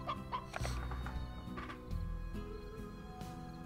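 A hen in the video game Slime Rancher clucks in a few short, quick bursts, fairly close and clear, alone without talk.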